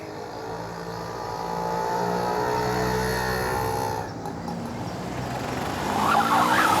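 A car braking hard with a loud, sustained skid that holds for several seconds, fading briefly before a surge of engine noise and a siren-like wail near the end, all close and without speech.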